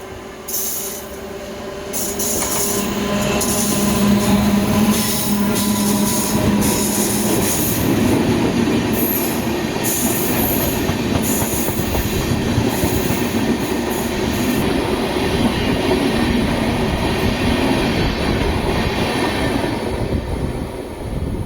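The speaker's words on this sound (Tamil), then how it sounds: "12683 எர்ணாகுளம் SMET பெங்களூர் எக்ஸ்பிரஸ் வந்துட்டுருக்கான்" The 12683 Ernakulam–SMVT Bengaluru Express passes close and loud, with a continuous rumble, rhythmic wheel clatter over rail joints and high squealing from the wheels that holds for about twenty seconds.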